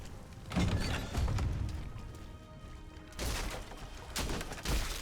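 Corpse explosion skill from the action RPG Diablo 3 goes off in several heavy, crashing bursts, two close together early and more after a pause, over a rumbling game background.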